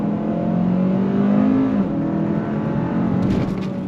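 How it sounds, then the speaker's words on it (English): A 2023 Kia K5 GT sedan accelerates on throttle from a roll, heard from inside the cabin: a loud, steady engine drone whose pitch climbs and then drops back, like a gear change, before pulling on again. "So you're getting really nice acceleration, especially from a roll."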